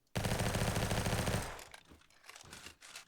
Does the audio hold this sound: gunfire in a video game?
yes